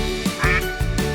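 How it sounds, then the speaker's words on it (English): Cartoon ducks in a park quack in several short bursts, close and fairly loud, with a bright tonal music bed running underneath. "Ducks splash and quack."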